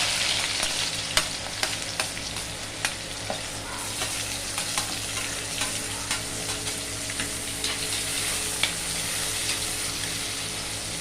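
Mustard seeds spluttering in hot oil in a pan, a dense continuous sizzle broken by frequent sharp pops and crackles, close and fairly loud, with no one talking.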